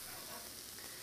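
Scallop burgers just moved from a hot pan to a work surface keep sizzling, a faint, steady hiss of frying with no pauses.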